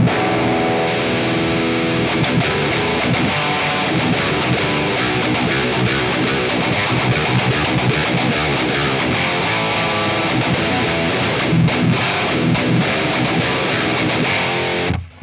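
Heavily distorted electric guitar played through a Synergy MESA MKII-inspired amp module with a traditional creamy gain and an extreme graphic EQ setting, no boost, in loud sustained riffs and chords that fill the whole passage.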